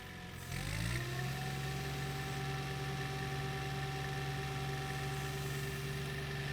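A Miller EnPak engine powering a truck crane's hydraulics spins up over the first second, then holds a steady, loud droning hum with a strong low tone, with no voices.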